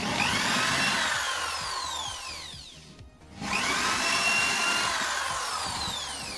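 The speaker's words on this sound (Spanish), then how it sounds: "Vamos a proceder ahora a hacerle dos agujeros con nuestra broca ya previamente marcada." A power drill bores two holes in wood with a drill bit, each burst a high whirring whine that rises and falls, with a brief pause between the two passes.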